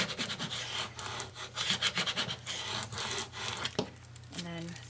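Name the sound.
rubbing transfer tape onto vinyl lettering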